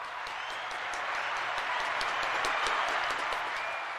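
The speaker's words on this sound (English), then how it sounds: "Let's give Brooke a round of applause." A room of people applauds an engineer during a podcast episode, continuous clapping that swells gradually toward the middle and stays fairly soft.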